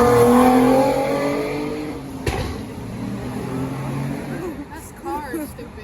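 Cars rush past on a busy street near Rockaway Parkway, a loud close engine swell fading away, followed by quieter traffic and voices talking over it.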